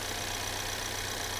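A Ford Maverick EcoBoost pickup truck's engine and exhaust idle in a steady, even drone for a short stretch, fairly loud and unbroken, with no voices.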